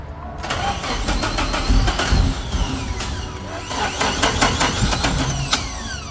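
A Nissan 240SX engine cranks and catches after a long no-start, settling into an uneven, rumbling mid-pitched run, loud and close, with people's voices faintly around it.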